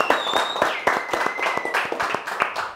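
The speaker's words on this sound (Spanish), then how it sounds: "Ay, Karel, ¿por qué usted aplaude antes de tiempo?" Enthusiastic studio applause on a Costa Rican television variety show, dense overlapping claps at close range lasting several seconds with no talking over them.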